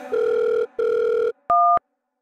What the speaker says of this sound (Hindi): अपना माइक लगे फोन लगाओ। लगाओ स्पीकर ऑन कर।